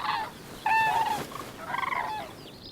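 Cranes give loud, trumpeting, rattling calls in quick bursts while squabbling over grain, several overlapping cries close by with no voices.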